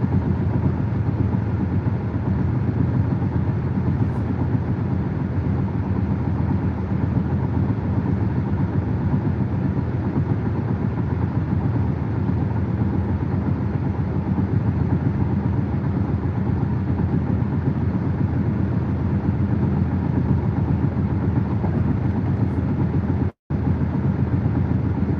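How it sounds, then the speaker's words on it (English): Steady broadband road roar inside a Kia EV6 AWD cruising on a freeway at about 70 mph, a continuous low rumble of tires and wind that holds level throughout, with one brief dropout near the end. "That's freeway noise."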